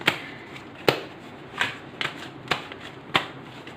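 Tarot cards are shuffled and drawn from a deck, making a quick series of about eight crisp, close riffling snaps at uneven intervals.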